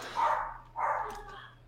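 Two loud, close dog barks come about half a second apart, with a faint squeal after the second.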